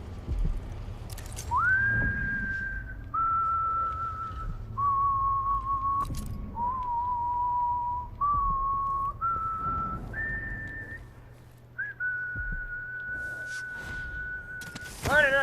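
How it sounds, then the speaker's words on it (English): Whistling in the stealth game Dishonored 2: a clear, steady tune of sustained notes that steps up and down in pitch, loud and alone over low ambient game hum, with a few faint thumps and clicks. "Shut up with the whistling!"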